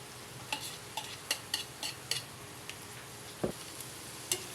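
Egg stir-frying with bitter gourd in a pan, a faint sizzle under scattered scraping stirs and clinks of a utensil against the pan, with one louder knock near the end; no talk.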